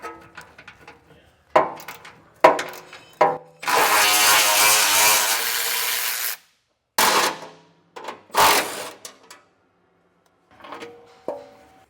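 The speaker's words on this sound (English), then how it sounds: "I'm just going to use a 14mm socket" A 14mm socket ratchet loosens the bolts of a spare tire heat shield on a 2025 Ford truck, close and moderately loud: bursts of clicking, then a sustained stretch of steady ratcheting, then a few shorter clicking bursts.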